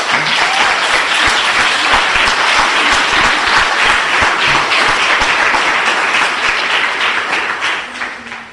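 A congregation at a Marian religious gathering claps for the Lord, a loud, dense and sustained round of applause that holds steady and then tapers off near the end.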